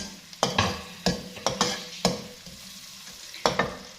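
A spoon scrapes and knocks rhythmically against a pan, stirring roll patti stuffing with chopped green chillies, with roughly eight sharp strokes over a soft sizzle and no speech.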